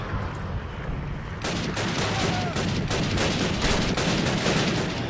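Rapid gunfire in the 2003 video game Call of Duty, loud bursts of automatic shots and scattered single cracks that fill the scene without pause after a brief quieter opening, with faint game noise underneath.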